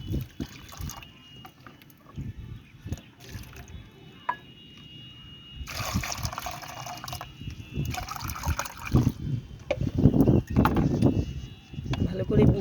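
A homemade plant remedy against ants is poured through a very fine sieve, giving wet trickling and squishing bursts that swell toward the end, with a voice talking throughout.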